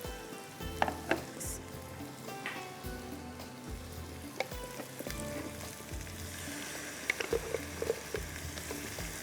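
A ground tomato and onion masala fries in a pan with a steady, quiet sizzle, broken by regular scraping and clinking as it is stirred.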